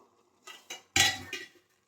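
A metal lid is lifted off a pot of egg noodles cooking on a low flame, giving a few quick close metallic clinks and a louder rattling clatter, then quiet.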